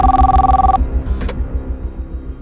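An outgoing call placed from a mobile phone to a missing wife's mother rings back with a short, loud electronic tone that cuts off after under a second, leaving a low steady hum.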